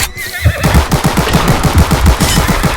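Cavalry horses neighing in the video game Glory Front line, loud whinnies over a rapid, rhythmic string of gunfire or galloping bursts that runs to the end.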